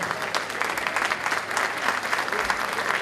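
Steady, dense applause from an audience fills an honorary doctorate ceremony at the Universidad Nacional de La Plata, continuous and even throughout, with a faint murmur of voices beneath the clapping.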